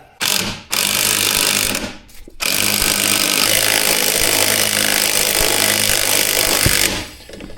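A loud, steady mechanical grinding and whirring close by during motorcycle tire bead breaking with a jack, starting in short bursts then running continuously for several seconds before cutting off.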